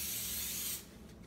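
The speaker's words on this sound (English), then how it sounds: "Now we're ready to go ahead and spray the waffle iron and put the batter in there." Coconut oil spray hisses from a can onto a waffle iron in one steady burst of bright, breathy noise lasting under a second, then stops, leaving faint room sound.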